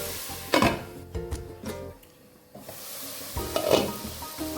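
Ginger and garlic frying in a pan for chicken curry, a soft sizzle under several sharp scrapes and clacks of a spoon stirring against the pan, with a quieter pause midway.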